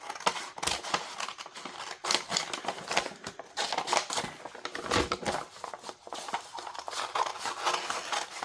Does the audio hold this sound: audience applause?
no